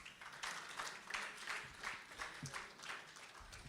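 Audience applause at a family-planning commitments launch event in Rwanda, a crowd clapping in loose uneven bursts at moderate distance, fairly quiet, with a little background voice murmur.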